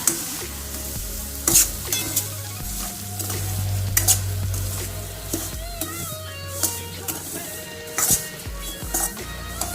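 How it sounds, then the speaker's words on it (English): Dry-roasted semolina (rava, suji) fried and stirred in a pan for rava halwa gives a continuous close sizzle with repeated scraping strokes of a spoon against the pan, and no one speaks. "So I am putting the already dry fry one in the pan, this suji, that is rava."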